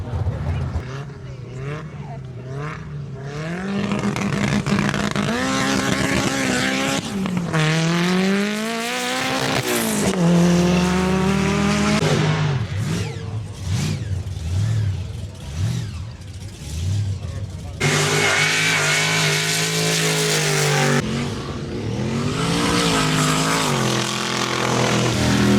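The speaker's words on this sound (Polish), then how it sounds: "Są wyścigi na ćwierć mili. I to nie byle jakich samochodów." Loud engines of tuned cars rev and roar as they accelerate hard in quarter-mile drag races at Sywell, UK, with rising and falling whine and tire noise, while a person talks over the din.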